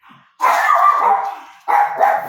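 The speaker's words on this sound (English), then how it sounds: "he barks everything and nothing" A pet dog barks indoors, two loud close yelps or barks in quick succession, each held briefly, with near silence around them.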